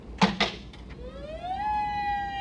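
Federal Signal outdoor warning siren sounding during a zone test, its tone rising steadily and then holding a loud sustained wail, preceded by a couple of brief louder bursts.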